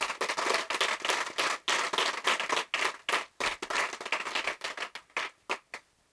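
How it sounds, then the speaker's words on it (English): Applause at an anniversary celebration gala, a smaller group clapping in uneven bursts with sharp individual claps, rising and dipping before dying away to scattered final claps. "Please give them one more big round of applause."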